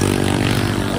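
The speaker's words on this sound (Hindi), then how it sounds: "हर क्यों होते हैं इनके बाइक में साइलेंसर क्यों नहीं लगाते हैं यार?" Loud, rough motorcycle engine running without a silencer, a harsh continuous blatting drone close by, with no gaps or pauses.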